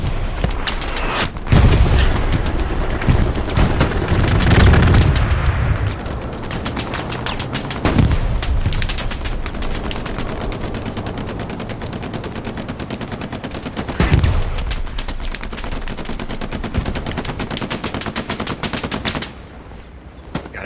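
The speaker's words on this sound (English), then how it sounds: "Watch out for the friendly strafing run." Aircraft strafing gunfire in Hell Let Loose roars in loud bursts of rapid machine-gun fire and booming impacts, with a heavy burst near the start, another around the middle and rumbling between, ending abruptly.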